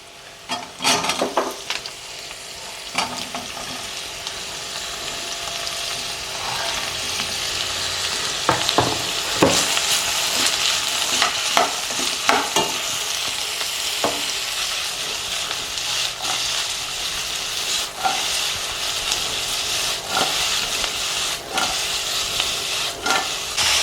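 Capsicum and carrot stir-fried with onion for veg noodles, a continuous loud sizzle and hiss broken by frequent scraping and clanking of a spatula against the pan, close-up and steady.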